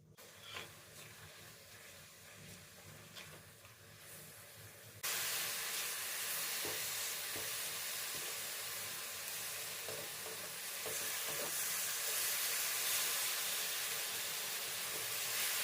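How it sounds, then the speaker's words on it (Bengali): Grated coconut and jaggery cook in a pan for a dudh puli filling, a continuous close sizzle and hiss with soft scraping stirs, growing louder and steadier partway through. "এবার আমি এই গুড়টাকে নারকেলের সাথে খুব ভালো করে মিশিয়ে নিয়ে একটু নারকেলটাকে পাক দিয়ে নেব।"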